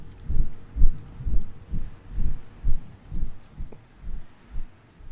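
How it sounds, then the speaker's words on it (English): Heartbeat sound effect in a video game, a steady low double thump repeating roughly every half second, clear and alone with faint ambient rustle. "And then you can also hear what sounds like a heartbeat or something maybe."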